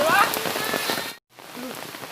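Light rain falls steadily in a village setting, a close, dense patter that cuts out briefly halfway through and then resumes more faintly.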